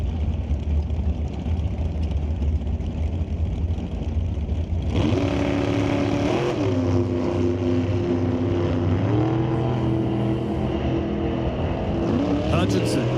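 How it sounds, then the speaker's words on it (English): 2022 American-built shorty dragster at an NHRA Canadian Sportsnationals qualifying run, a low idle rumble giving way to a loud rising engine drone with shifting harmonic pitch, under a commentator's voice. "Absolutely gorgeous 2022 American-built shorty dragster over there in the right-hand lane."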